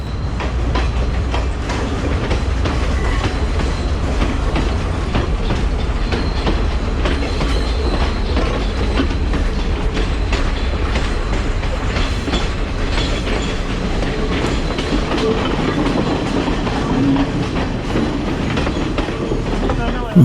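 A train on the Sri Lankan hill-country line rolls into Nanu Oya railway station with constant loud rumbling and clickety-clack wheel noise, heard from on board.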